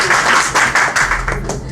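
Audience clapping at a quiz show event, a short burst of brisk, fairly loud applause from a small crowd.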